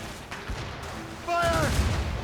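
Enemy cannon fire during a naval battle in Assassin's Creed Rogue: a low rumbling barrage with sharp booms, growing louder and fuller about halfway through, with a tonal horn-like sweep rising over it.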